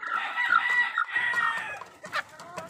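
A group of about fifty selected roosters and sixty hens cluck busily nearby, with a rooster crowing through the noise and sharp calls near the end; no voices.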